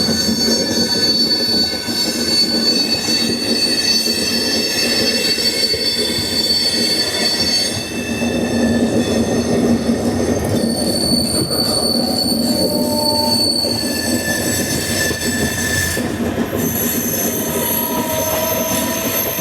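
Mumbai Hyderabad SF Express rolling steadily on the rails, with loud continuous wheel rumble and high metallic squeals rising and shifting throughout, close and constant.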